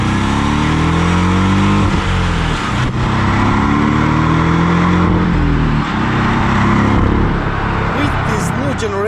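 A turbocharged four-cylinder Porsche 718 Boxster T engine hums steadily and loudly throughout, with low droning harmonics rising and falling slightly as the revs shift.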